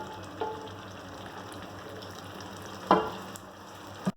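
Tomato puree stirred into beef karahi frying in a pan, giving a steady low sizzle with a few sharp clatters of stirring, close and without talk.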